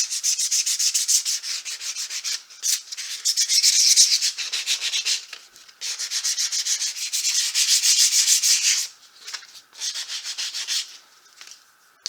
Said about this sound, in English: give the light switch cover a quick sand so the paint will bond nicer to it